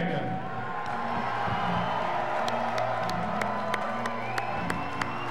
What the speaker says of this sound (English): The crowd's probably going to go a little bit crazy in a couple of minutes, so let's just let them do their thing